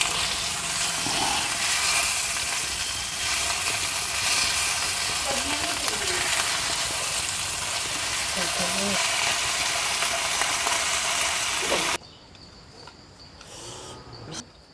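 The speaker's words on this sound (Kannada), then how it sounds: "ಇದು ಇನ್ನೊಂದು ಸೈಡ್ ಫ್ರೈ ಮಾಡ್ಕೊರೋಣ್ರಿ." Small mackerel (bangda) fish frying in hot oil on its second side gives a steady, dense sizzle that holds evenly and then drops away sharply near the end.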